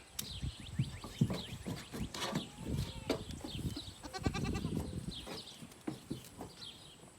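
Goats in a fenced pen with the gate open to pasture bleat repeatedly and overlapping while feed is dumped into a trough, with rustling and clattering of feed and trough, fairly close.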